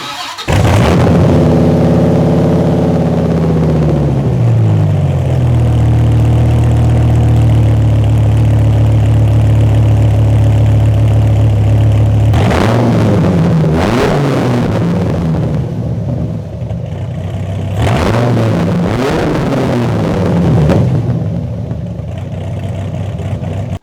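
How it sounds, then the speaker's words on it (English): A Dodge Viper with a Belanger exhaust cold-starts with a loud flare of revs that drops into a deep, steady idle, followed later by two sharp throttle blips. No one speaks. "I just love the unique sound of this car and of this exhaust that I have on the car, the Belanger exhaust system."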